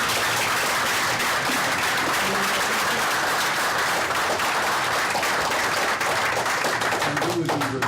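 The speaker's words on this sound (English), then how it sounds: "Can we have another round of applause for her performance?" Loud, sustained audience applause after a live theatre performance in Gainesville, thick continuous clapping filling the whole stretch with a few sharper claps standing out near the end.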